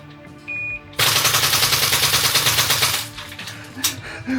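Tokyo Marui Type 89 gas blowback airsoft rifle firing a sustained full-auto burst of about two seconds, rapid loud sharp cracks in a fast even rhythm, followed by quieter mechanical clicks and handling.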